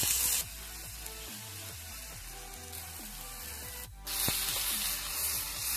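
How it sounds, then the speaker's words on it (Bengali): Cumin seeds sizzle in hot oil in a wok, a steady close frying hiss that swells louder near the end, with no talking. "তার জন্য দিয়ে দেওয়া হচ্ছে কড়াইতে তেল আর একটুখানি জিরে"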